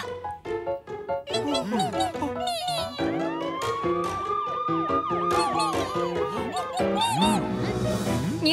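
A cartoon fire truck siren wails in rising and falling sweeps through the middle of the passage, mixed with bright children's song music and sung voices.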